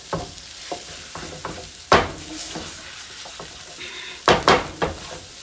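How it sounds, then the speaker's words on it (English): Spoon stirring flour into beef in a frying pan for stroganoff, with scraping strokes against the pan, several louder scrapes and a soft sizzle underneath, close up with no talking. "You're just gonna keep stirring it constantly, because you want to get that flour out of there."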